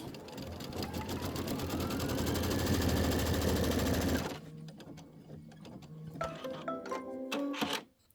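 A computerised embroidery machine stitches a trim line on a quilted pillow block, a loud rapid needle hum lasting about four seconds, then quieter ticking and clicking of the machine and fabric handling close by.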